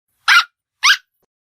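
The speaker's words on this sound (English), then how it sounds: "A dog! I love dogs!" A dog gives two sharp, loud barks about half a second apart, close by and clear against silence.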